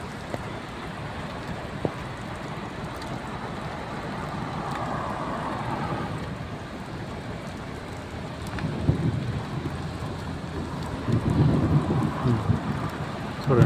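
Heavy rain pours steadily outdoors in Kuwait during a storm, a dense continuous hiss with swelling low rumbles of thunder late in the clip, with no voices.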